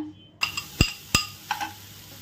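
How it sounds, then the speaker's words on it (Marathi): Mawa (khoa) roasting in a hot pan on a low flame, with a soft sizzle broken by four or five sharp scrapes and clinks of a spoon stirring against the pan, mostly quiet between them. "आता आपण मावा ह्याच्यात भाजून घेऊया।"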